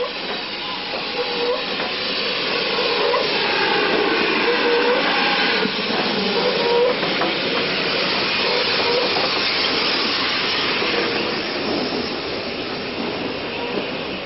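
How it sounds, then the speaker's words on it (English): BR Standard Mogul 76079, a 1957-built steam locomotive, passes with a steady loud hiss and rolling rail rumble that swells and holds throughout, with no voices. "Heading the other way comes BR Standard Mogul 76079, built as recently as 1957 and withdrawn just 10 years later"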